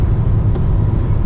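Inside a car driving away, a steady low engine and road rumble fills the cabin, close and constant, with a couple of faint ticks and no talking.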